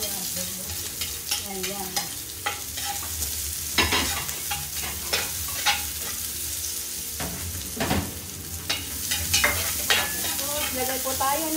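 Onion sizzles in a pan while being stirred, with repeated scraping strokes and clattering of a utensil against the pan, close and fairly busy throughout.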